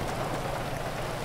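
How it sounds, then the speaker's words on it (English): Steady hiss of rain falling in Blaine County in Grand Theft Auto V, a brief continuous wash with no voices. "It is raining up here."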